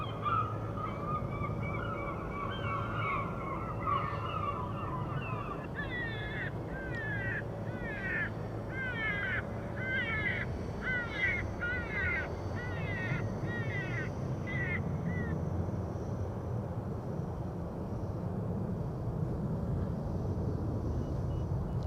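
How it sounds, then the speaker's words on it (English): At Amsterdam Schiphol Airport, a bird controller plays recorded distress calls from a sound effects board: a rapid series of harsh, caw-like bursts for about ten seconds over steady wind and distant airport rumble. "Bird controller using the sound effects board."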